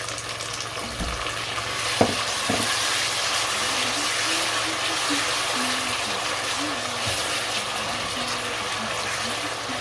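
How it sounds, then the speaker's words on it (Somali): Steady, continuous sizzling of food frying in hot oil, with faint voices in the background throughout. "xoogaa yaraa soo shiila baradhada"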